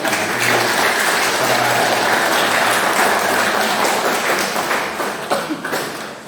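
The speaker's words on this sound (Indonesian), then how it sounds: "Mari kita berikan tepuk tangan untuk mereka." A crowd claps steadily and fairly loudly for several seconds at a nun's 25th anniversary thanksgiving celebration, the applause thinning out toward the end.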